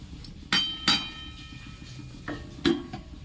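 A metal lid set onto a pot of boiling matar dal, with a few sharp clanks and clinks spaced apart, close and fairly loud against a quiet background.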